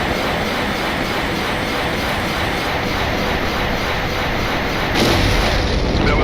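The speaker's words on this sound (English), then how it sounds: "Gunnery control, open fire." Warship guns open fire in the space combat game Freespace Open, a dense, loud continuous roar of heavy gunfire and rumble that swells slightly near the end, with no speech.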